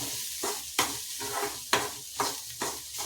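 Carrots are stirred in a hot pan with black pepper, a steady sizzle broken by several sharp scraping strokes of the spoon at an uneven rhythm, close and alone with no talk.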